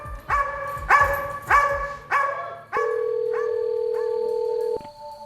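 Prison dogs bark in a run of five loud, evenly spaced barks close by, followed by a sustained electronic tone and a few faint yips, with no talk.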